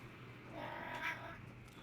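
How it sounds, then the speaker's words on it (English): A pet cat meows once, a drawn-out cry rising over quiet room tone and low background game audio, fairly close but soft. "And my cat meowed on the stream."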